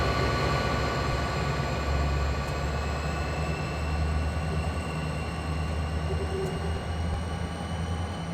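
SP SD45 diesel locomotive on Donner Pass in Train Simulator 2015, a steady low rumbling engine drone with faint high whining tones above it, continuous and fairly loud with no voices.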